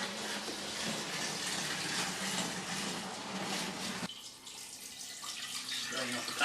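Hot beer wort strained off a pan during home brewing, a steady broadband pouring and splashing of liquid that drops off abruptly partway through, leaving a quieter trickle.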